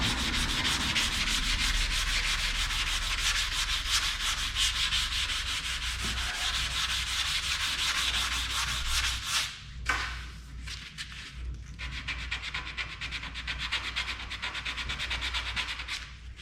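Car body panel being sanded down to take off the shine: continuous close abrasive rubbing with quick back-and-forth strokes, a brief pause near the end, then sanding resumes.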